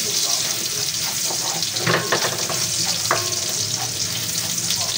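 Garlic sizzles steadily in a hot pan while being stirred, a loud continuous frying hiss with occasional clinks of the utensil on the pan.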